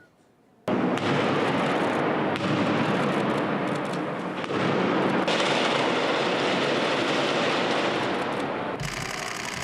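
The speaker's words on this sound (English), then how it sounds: "heavily armed police entered the building with live rounds and stun grenades" Dense, continuous roar of loud bursts and crackling fills nearly the whole stretch after a sudden onset, consistent with police live rounds and stun grenades during a hostage siege assault in a Sydney building.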